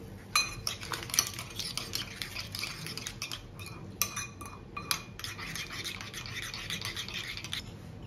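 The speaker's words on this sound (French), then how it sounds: "Alors en premier, je mélange la levure avec l'eau" Yeast being stirred into water in a bowl for a brioche-style Easter colomba dough, with a spoon repeatedly scraping and clinking against the sides in quick, uneven strokes, close and fairly quiet.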